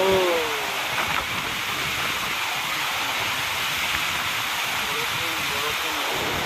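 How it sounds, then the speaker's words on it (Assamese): A steady, dense roar of heavy rain during a storm fills the scene, with a broad wind-like hiss and no let-up. "ইয়াত বৰষুণটো পৰিছে আৰু বতাহটো দিছে"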